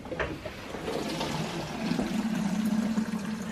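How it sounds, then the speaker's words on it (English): Tap water runs steadily into a cleaning-solution container as it fills to the marked line, a continuous close pouring and trickling rush with no talk over it. "So you fill it up to the line. Yeah. With just bog standard water. Just straight from your tap."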